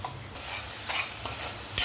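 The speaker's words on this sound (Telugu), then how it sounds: "ఇది పచ్చివాసన పోయే వరకు మగ్గించుకోవాలండి మసాలాని." Masala for chicken curry sizzling in a pan while a spoon scrapes and stirs it, with soft clinks and a brief sharp scrape at the end, close and fairly quiet.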